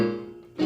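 A Yamaha YPG-235 portable keyboard plays its piano voice, one clear note decaying softly before a second note is struck near the end, with no talking.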